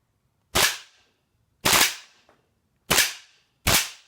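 A WE XM177 gas blowback airsoft rifle, dusty after a dust test, fires four loud, sharp single shots at irregular intervals, each with a short crack and brief decay.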